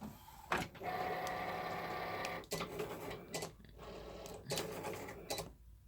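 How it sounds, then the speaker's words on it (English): An inkjet printer set up for sublimation printing runs close by, a mechanical whirring carriage pass repeatedly broken by short pauses and clunks, with no talk over it. "This is the printer that I'm using"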